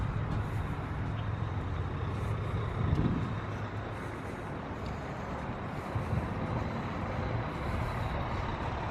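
Chevy Colorado ZR2 Duramax diesel pickup towing a long trailer as it rolls slowly into a parking spot, a low rumbling engine under steady road and wind noise with a brief swell partway through.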